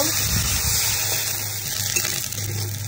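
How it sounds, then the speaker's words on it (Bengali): Water poured into a pan where dried fish is frying gives a steady close-up gush and splash with a constant hiss, lasting the whole moment with no talking. "একটু পানি দিয়ে দিব।"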